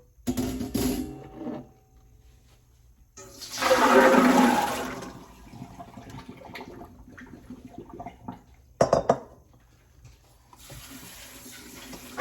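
Dry chickpeas soaked overnight are rinsed in a large colander under a running tap, water gushing in bursts with splashing and clattering between quieter pauses, with no speech.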